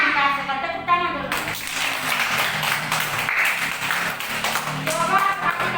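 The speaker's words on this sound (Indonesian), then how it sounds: "Kita sekarang tepuk tangan dulu." A class of schoolchildren claps their hands together in a classroom, a few seconds of close, uneven clapping that follows a brief spoken phrase at the start.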